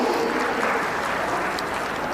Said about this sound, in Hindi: आप सभी की दमदार तालियां मंच तक पहुंचनी चाहिए।